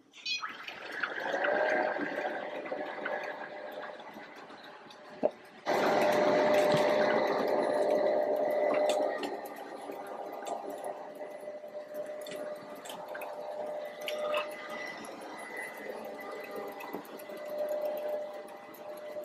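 An ILIFE V5s robot vacuum runs in mopping mode, giving a steady mechanical whir and hum that starts with a click and rises louder partway through before settling into a continuous drone, with no talking.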